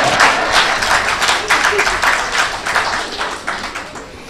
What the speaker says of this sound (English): what a way the applause!